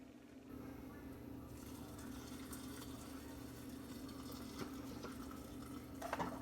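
Pickling liquid poured over vegetables in a container, a faint, steady trickle and splash running continuously, with a few light clinks near the end.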